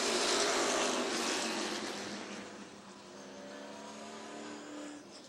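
Race car spinning out in turn 4 during a sportsman twins race on an oval track: loud, dense engine roar with tire noise at the start, easing to a steadier, quieter drone of cars circling.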